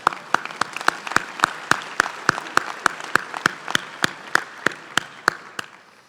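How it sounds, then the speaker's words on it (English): Sparse audience clapping at a UC Berkeley College of Chemistry commencement ceremony, about twenty sharp, evenly spaced claps over six seconds, fairly close and clear with no talk over them. "sure, we can applaud that."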